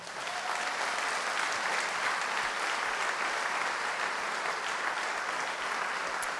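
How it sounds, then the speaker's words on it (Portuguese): Church congregation applauding during a sermon, steady dense clapping from a large crowd that continues unbroken throughout, moderately distant and without speech. "acho que você podia aplaudir Jesus."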